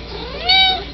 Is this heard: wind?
no